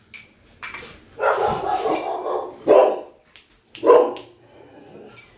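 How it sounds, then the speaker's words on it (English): A dog barks in a few sharp bursts close by, with clinking dishes and utensils in the background. "Sorry about the barking, guys."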